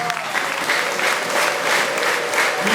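A church congregation breaks into loud sustained applause, dense clapping filling the space evenly from start to finish.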